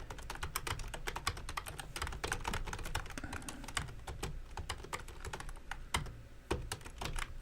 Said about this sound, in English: Otherwise, just go ahead and type in